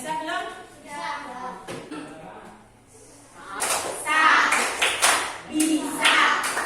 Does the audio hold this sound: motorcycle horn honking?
no